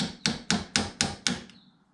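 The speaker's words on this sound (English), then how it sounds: "And now we can easily pop the rivet through and out the back." Six evenly spaced sharp metallic hammer blows drive a drilled-out rivet from a shower door hinge, each a crisp close strike with a short ringing decay, the last one lighter.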